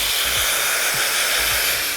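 A hair dryer blows steadily and loudly at close range, a continuous breathy roar as it dries mousse into dry hair, with faint low shifts as the airflow moves around.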